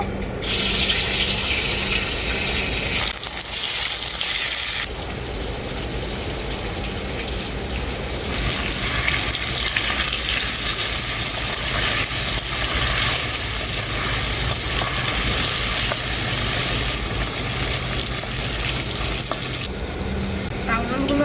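Pieces of teasel gourd (kakrol) fry in hot mustard oil, giving a loud, dense, continuous sizzle. It dips briefly partway through, then returns to full strength.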